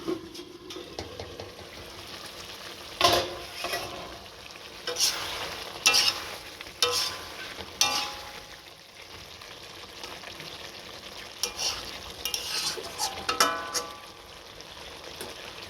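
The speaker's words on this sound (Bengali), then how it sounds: "এবার ঢাকনা খুলে আমি চিকেনটাকে একটু নেড়ে চেড়ে দিচ্ছি" Chicken for a milk chicken dish stirred in a pan after the lid is lifted, with intermittent spatula scrapes and clatter over a steady, moderate sizzle of frying.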